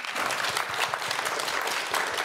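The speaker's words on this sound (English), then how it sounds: "Thank you, Norsi, and can I have a round of applause for my panel, Andy, John, and Una?" An audience at a festival panel applauds, a dense, even wash of many hands clapping together, steady and fairly close, with no voices standing out.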